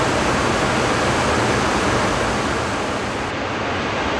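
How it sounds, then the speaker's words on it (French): Ouzoud waterfalls plunging more than 100 metres, a dense, steady roar of falling water that fills the scene loudly and continuously without any voices. "Les cascades d'Ouzoud offrent leur majesté dans une chute étourdissante de plus de 100 mètres de haut."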